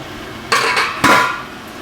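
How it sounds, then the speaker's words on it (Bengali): A metal lid comes off a cooking pot of watermelon rind, making two sharp clanks half a second apart that ring briefly and fade, close and fairly loud. "এবার ঢাকনাটা খুলে একটু দেখব"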